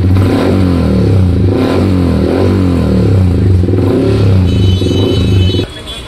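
Yamaha R15 motorcycle revving with a modified aftermarket silencer, a loud, close engine note with repeated throttle blips and a deep rumbling idle, cutting down near the end as a faint whine appears.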